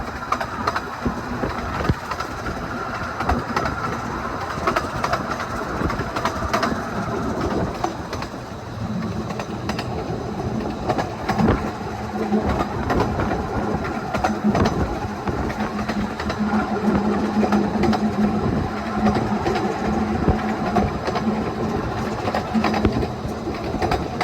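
A Ravenglass & Eskdale Railway train rumbles into the station, its wheels clattering over the rails in a continuous, close, loud run lasting the whole stretch.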